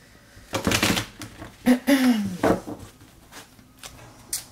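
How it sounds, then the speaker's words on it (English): A deck of tarot cards shuffled up close: several crisp, irregular riffles and taps, with short pauses between the bursts. "I always shuffle the cards in front of you."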